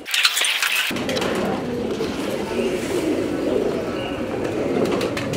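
Pigeons coo softly over a steady background hum, with a few sharp clicks at the start before the ambience fills in.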